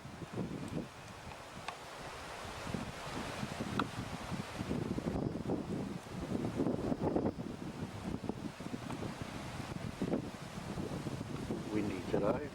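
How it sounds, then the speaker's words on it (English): Gusty wind buffets a microphone outdoors on an Australian gold-detecting outing, a steady rough rumble rising and falling at moderate level, with people talking intermittently beneath it. "Windy today."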